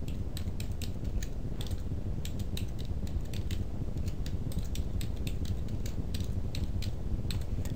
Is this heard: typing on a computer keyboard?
yes